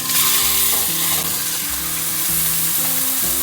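One pound of ground beef and chopped onion fry loudly in a pan, giving a dense, steady sizzle that runs throughout, with a low rhythmic mechanical hum beneath it.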